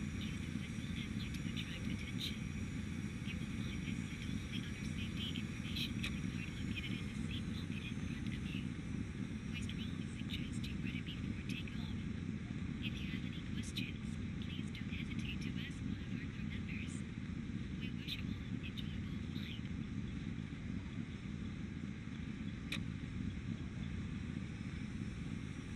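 An Airbus A320neo airliner taxis at Thessaloniki airport in the X-Plane flight simulator, giving a steady low engine rumble and whine throughout, with faint clicks on top.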